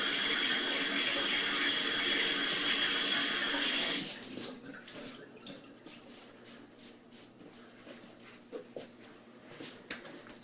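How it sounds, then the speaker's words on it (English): Hands washed under a running tap, loud steady water splashing into a sink for about four seconds, then the flow stops and faint drips and small handling noises follow. "Wash my hands off."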